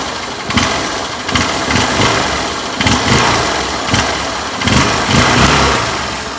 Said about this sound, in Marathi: पुन्हा एकदा बघा की कशा पद्धतीने एकदम क्विक रिस्पॉन्स करते आहे गाडी